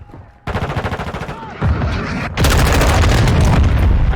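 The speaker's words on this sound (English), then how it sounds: "Friendly cruise missile approaching target." Cruise missile strikes in the Call of Duty Modern Warfare 2 beta: a rapid string of loud booming impacts, then heavier continuous blasts and rumbling explosions. No voices.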